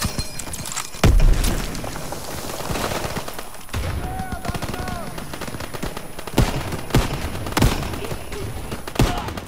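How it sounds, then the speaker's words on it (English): Flak anti-aircraft fire rumbling in the distance in the Call of Duty WW2 video game, with intermittent booms and gunfire bursts over a busy battlefield background and a few sharp nearer shots. "That's flak fire in the distance"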